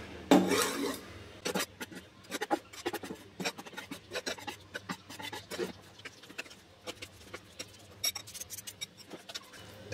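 Chopped egg salad filling mixed in a bowl, a run of close scraping and rubbing strokes with light clinks of a utensil against the bowl, irregular and moderately loud.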